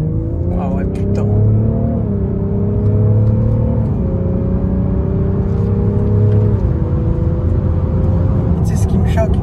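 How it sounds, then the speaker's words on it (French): A heavy car weighing over two tonnes accelerates hard, its engine rising in pitch through several gear shifts with a loud, steady rumble and whir inside the cabin, while occupants talk over it. "Elle te lâche une accélération, c'est n'importe quoi."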